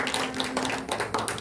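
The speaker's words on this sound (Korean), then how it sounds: "박수로 환영해 주십시오." Church congregation clapping to welcome guests, a quick patter of hand claps filling the room at close range, steady throughout the short burst.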